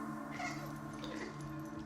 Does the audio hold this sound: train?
no